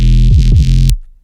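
Deep synth sub bass with a sliding, gliding pitch, loud and sustained for about a second before cutting off abruptly.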